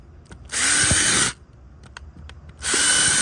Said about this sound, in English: just drill 8 holes evenly spaced around and then fill it foam